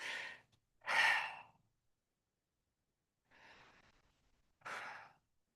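Person breathing out deeply during a calming exercise, three or four separate breaths, slow inhales and exhales with quiet pauses between, close and soft.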